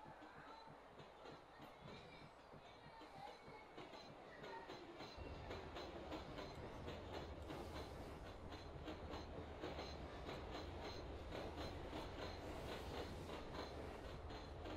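Freight train wagons rolling in the Open Rails train simulator on the Ferrovia do Aço line, a steady rumbling roll with rhythmic clickety-clack and occasional faint wheel squeal, growing louder partway through.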